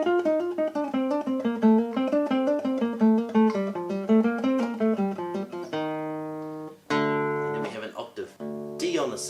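A classical guitar plays a passage from Albéniz's Sevilla: a fast, steady stream of plucked notes for several seconds, then full chords that ring and sustain, and finally a few sharp strummed chords.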